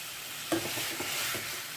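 Chicken frying in a pan over a high flame gives a steady, close sizzle, with a few soft stirring scrapes and clinks mixed in, and no voices.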